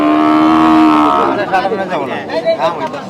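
At a cattle market, a cow gives one long, loud, close moo, then people begin talking nearby as the call fades.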